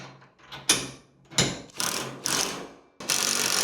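A ratchet socket wrench tightens a bolt on a Harbor Freight Haul Master mini utility trailer, giving several short bursts of rapid close ratcheting clicks separated by brief pauses.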